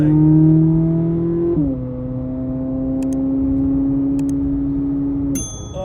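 A C8 Corvette Z06 sports car engine idles and revs loudly with a shift in pitch partway through as it downshifts, holding a steady deep drone, close by and with no talking.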